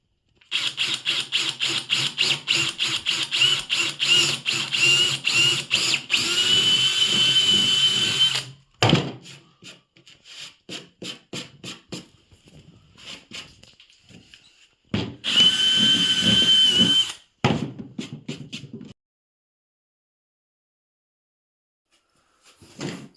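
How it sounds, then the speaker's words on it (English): Repeated power drill bursts: rapid stuttering trigger pulses build into a sustained whirring run, then more short bursts and a second steady drilling stretch. "Next hole, make sure you're not going to drill into anything."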